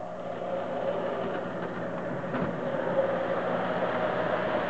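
A model train motor whirs steadily at close range, with a faint rhythmic rattle of cars on track and no voices.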